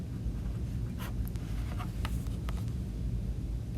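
Pen or pencil scratching across paper while handwriting notes, a series of quick soft strokes close by over a steady low background hum, with no talk.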